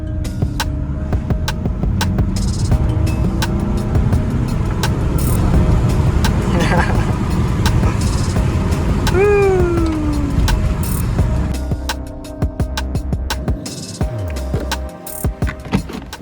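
A Mercedes W203 fitted with a Mazda FE3 engine drives along, its engine and road noise a steady, loud drone throughout, with a brief rising squeal partway through and a slight easing toward the end.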